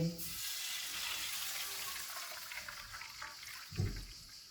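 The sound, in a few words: water poured into hot pan with spices, sizzling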